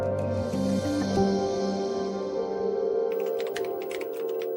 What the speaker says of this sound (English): Roberto sat at his computer typing up a restaurant review